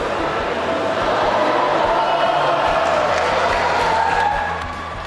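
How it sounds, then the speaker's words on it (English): A large outdoor crowd roars and shouts continuously at a cardboard boat regatta, a dense sustained wall of cheering and yelling that stays loud throughout before easing slightly at the end. "hearing the crowd like yell and shout when everything was ready"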